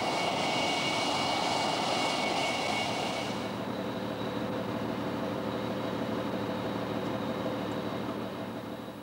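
A loud, steady roar from the twin engines of an English Electric Lightning jet holds throughout, a high whine dropping away partway through while the deep rumble continues.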